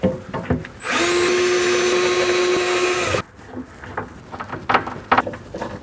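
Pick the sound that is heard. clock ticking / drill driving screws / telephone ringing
drill driving screws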